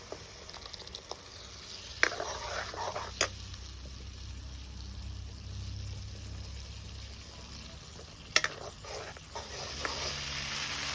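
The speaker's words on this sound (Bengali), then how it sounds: "ভালো করে একটু কষাই আনি, পটলের বিচি পেস্টটি দিয়ে দিই" Spices sautéed with pointed gourd seed paste for a chicken curry. A low, steady sizzle runs throughout, with a few sharp utensil knocks against the pan and no speech.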